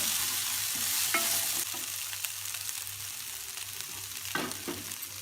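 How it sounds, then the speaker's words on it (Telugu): Boiled fenugreek sprouts fry in a pan with a soft, continuous sizzle, broken by several scraping stirs of a spoon against the metal, fairly quiet and close. "ఉడకబెట్టేసిన ముడకలు ఫ్రై చేసుకోవాలి"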